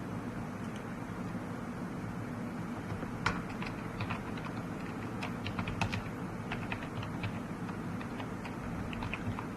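Code being typed on a computer keyboard, with steady rapid key clicks and occasional sharper taps over a constant background hiss, no voices.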